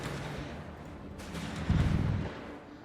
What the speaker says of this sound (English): And we got Lattouf here with a mortar now, deciding his response to all this German rocket artillery is to go from mortar